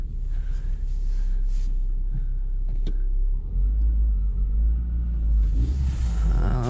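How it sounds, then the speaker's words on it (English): Rough low rumble of a Renault Clio driving, with occasional knocks and clunks from worn suspension struts over bumps, steady and close throughout. "Struts clanging and banging."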